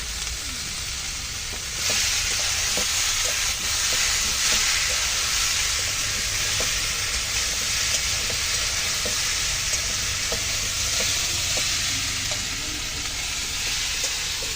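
Turmeric and green chillies with vegetables for a vegetarian shukto sizzle and fry steadily in a pan, a continuous close hiss with faint stirring ticks throughout.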